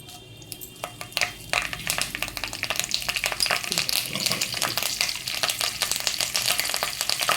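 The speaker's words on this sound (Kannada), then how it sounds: "ಈಗ ಸಾಸಿವೆ ಹಾಕ್ತಾ ಇದ್ದೀನಿ." Mustard seeds crackle and sizzle in hot oil for a tempering, with a dense, continuous frying hiss, sharp pops, and occasional clinks of a pan, growing louder after the first second.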